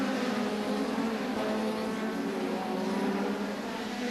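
Hot rod racing cars on a Northern Ireland circuit in 1981, a continuous faint engine roar from cars passing at a distance with a steady, slightly wavering tone.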